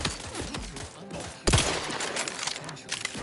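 Gunfire in the video game The Outer Worlds 2: bursts of rapid shots and a sharp louder blast midway, layered over game music and effects without talk.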